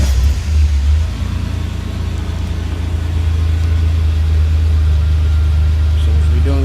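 Ford Ranger 4.0 V6 with a Flowmaster muffler idling after start-up, a loud deep steady rumble close by that settles into an even drone, with a brief voice over it.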